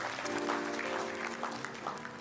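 A church congregation claps in a dense, continuous burst of applause, moderately loud and sustained, with a faint voice underneath.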